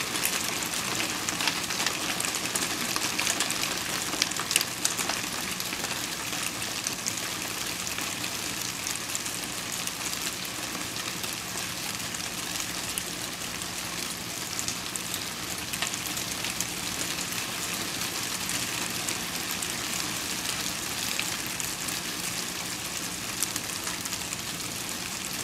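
Hail mixed with snow falls steadily outdoors near Portland, Oregon, making a dense, even patter and hiss that continues unbroken for the whole stretch, with no voices.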